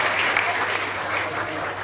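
Prisoners at Ahmedabad's Sabarmati Central Jail clap together during a de-addiction drama program, making a brief, dense burst of crowd applause that stays steady throughout.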